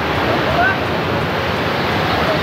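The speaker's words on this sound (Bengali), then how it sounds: "এখানে পাথরগুলো রয়েছে বলে দেখো বিভৎস স্রোতে বেরোচ্ছে জল" A fast river current rushes over rocks at Pahalgam in Kashmir, making a loud, steady, unbroken roar of churning water close by.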